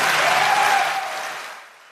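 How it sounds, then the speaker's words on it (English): Audience applause from a played sports-talk clip, loud dense clapping that holds for about a second and then fades away. "The applause is the funniest part of that clip."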